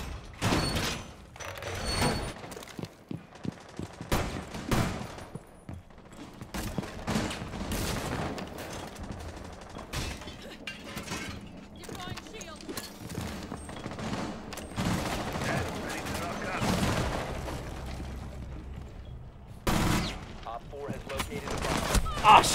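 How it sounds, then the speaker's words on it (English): Rainbow Six Siege gunfire: sharp close shots and rapid bursts scattered throughout, with mechanical clatter between them. Players talk intermittently. "I went for the knife, I just shot"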